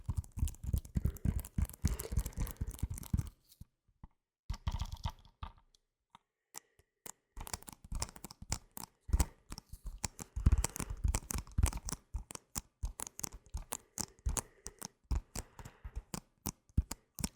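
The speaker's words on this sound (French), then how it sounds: "J'aime trop le bruit du papier, du papier, du plastique qui protège." Crinkling paper and protective plastic film handled up close for ASMR, with dense crackles and clicks, a brief quiet pause, then more rustling and tapping.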